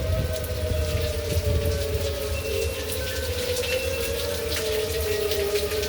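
Steady rain falls during stormy tornado-siren weather, a dense, even hiss close by with a faint tonal drone running underneath throughout.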